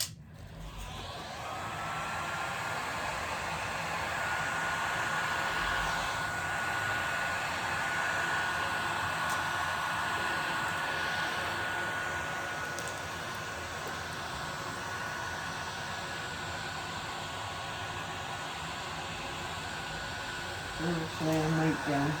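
A heat tool blows steadily and loudly close by, warming poured acrylic paint to bring up cells in a base white layer, a constant airy whoosh that holds for the whole stretch before tapering near the end.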